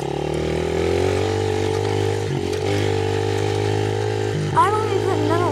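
A motorcycle engine revs in second gear as a steady loud drone, with two brief dips in pitch suggesting throttle changes and a sharper rising whine near the end, close to the microphone without distinct speech.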